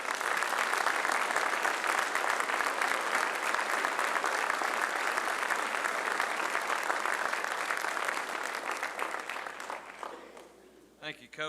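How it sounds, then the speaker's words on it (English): A large audience at the Pasadena ISD Athletics Hall of Fame induction applauds in a dense, sustained roar of clapping. The applause holds steady for several seconds, then tapers off and fades near the end. "Let's start the applause, and then as it fades out, I'll sit down."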